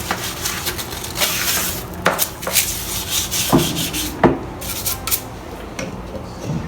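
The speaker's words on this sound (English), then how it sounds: "Scrub these, especially get around there, around and use some water." Close, irregular scrubbing and rubbing strokes scrape over hard bathroom fixtures, with occasional sharper knocks and rasps, no voices.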